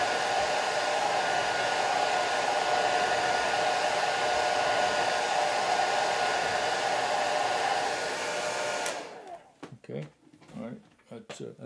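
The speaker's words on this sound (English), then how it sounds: "So I'm blow drying the extra moisture off the flowers." A loud, steady hair dryer roars up close while drying wet watercolor flowers, then cuts off abruptly, and a person starts speaking in the quiet that follows.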